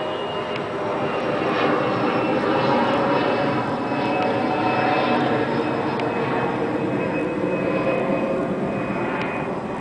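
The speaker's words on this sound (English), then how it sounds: "let's wait for this plane to go over" Steady broad roar of a propeller airplane passing overhead, loud and sustained throughout with no break.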